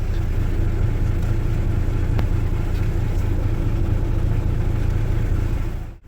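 Scania truck engine idling steadily at close range with a deep, constant low rumble while it builds up air pressure, cutting off abruptly at the end.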